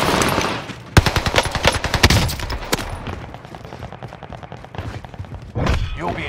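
Rapid bursts of automatic gunfire from a video game, likely a Type 100 submachine gun, with loud machine-gun fusillades clustered early and a few scattered single shots later.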